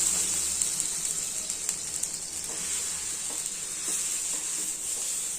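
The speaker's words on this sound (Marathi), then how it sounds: "नंतर थोडंच पाणी टाकायचं आणि पाणी पण पुसून घ्यायचं" Cold water sizzles on a hot dosa tawa, a loud, steady hiss up close that carries on evenly with small crackles and faint scraping as the pan is wiped.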